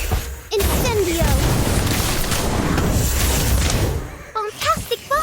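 Incendio fire spell from Harry Potter Magic Awakened going off as a loud roaring whoosh blast that sustains for about four seconds, with a voice calling out before and after.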